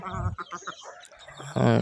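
Chickens on a free-range farm of over two hundred birds make short, close clucking and squawking calls, ending in a louder burst of fowl noise.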